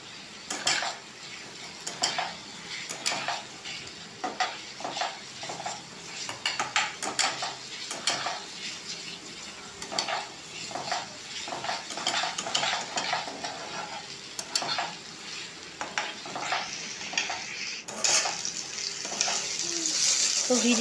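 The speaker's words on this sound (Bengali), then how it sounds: "আমি এই ফ্রাইং প্যানের মধ্যে আবার একটু পাঁচফোড়ন আর শুকনো লঙ্কা দিয়ে আমরা এটাকে ভালো করে নাড়বো" Panch phoron and dried chilli, then grated ginger and chopped tomato, stirred in a frying pan: steady scraping strokes of a spatula against metal over a continuous oily sizzle, close and moderately loud, with occasional utensil clinks and no talking.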